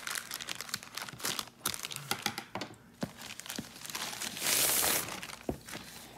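Crinkling plastic packaging handled up close, with irregular crackles and rustles and a louder burst of crumpling near the end.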